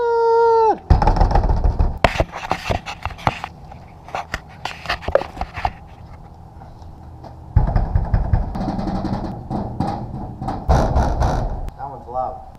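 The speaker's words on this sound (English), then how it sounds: "Hear me knocking." Someone knocks on a locked shop door, loud, close raps in irregular clusters with scattered clatter between them and a voice calling out once.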